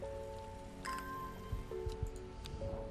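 Rain falls in the video game Strange Horticulture, a soft, steady patter with scattered light drips and ticks, quiet under faint sustained musical tones.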